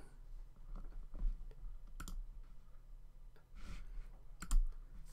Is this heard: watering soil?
no